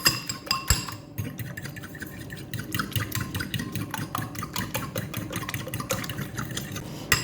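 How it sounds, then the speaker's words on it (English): Five eggs whisked briskly in a bowl, a steady rapid clatter of utensil against the bowl with small clinks, close and continuous without talk. "So here I'm using 5 eggs. Now go ahead and mix it."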